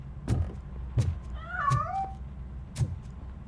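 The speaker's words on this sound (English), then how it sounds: "That cat must be hiding inside. Let me lure it out." A cat meows once in the game RoboCop Rogue City, a single drawn-out, wavering cry rising and falling over a low background hum, with a few soft thumps around it.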